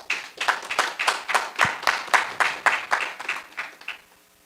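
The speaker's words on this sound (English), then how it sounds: "We applaud you." Rhythmic clapping from delegates at a branch conference in Westborough, Massachusetts, with distinct regular claps roughly every quarter second that are loud and close, then trail off near the end.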